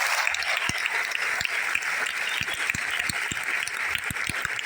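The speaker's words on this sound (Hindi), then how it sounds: "मैनेजमेंट के लिए एक बार जोरदार ताली होनी चाहिए।" An audience at a company stage event claps steadily, a dense spread of applause with scattered louder individual claps, continuous throughout.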